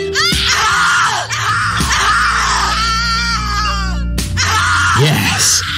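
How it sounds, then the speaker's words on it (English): A woman screams over and over in the horror video game The Cat Lady, loud, long and strained, with short breaks between cries. "Scream louder, little bitch! Scream your lungs out!"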